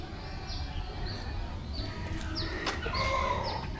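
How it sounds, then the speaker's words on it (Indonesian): Several chickens cluck and call in a poorly kept zoo enclosure, with repeated short clucks and a rooster-like crow rising over steady outdoor background noise. "Ayam, banyak ayamnya."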